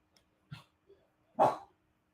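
A dog lets out one short yip and a few faint sounds, then gives a single louder bark, close by and with no talk.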